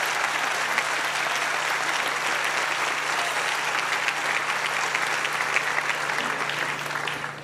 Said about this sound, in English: Give her another round of applause, everyone.